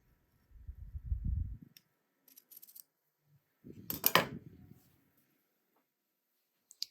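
Sewing scissors cutting fabric at an angle while working on a blouse, two short snipping bursts a few seconds apart, close and quiet, with soft handling noises and no talk.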